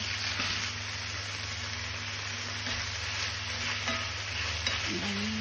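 Food sizzles steadily in a hot pan while a Japanese dish is stirred and browned. A constant, close frying hiss runs throughout with faint scraping from the stirring and no voices.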